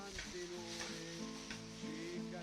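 A mezzepenne mixture being stirred in a sizzling pan, with continuous close frying hiss and periodic soft scraping strokes of the spoon, fairly quiet and without talking.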